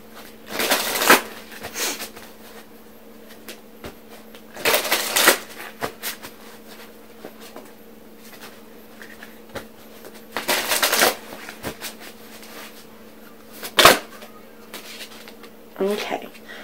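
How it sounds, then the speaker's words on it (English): A deck of oracle surrender cards is shuffled in several loud bursts of riffling and rustling, separated by pauses, with a voice speaking quietly in between. "I would like to pull some surrender cards"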